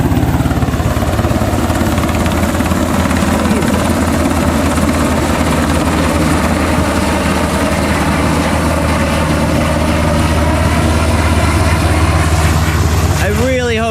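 A helicopter flying close past a boat out on open water, its loud rotor chop pounding steadily and dominating throughout, with the pitch shifting near the end as it passes.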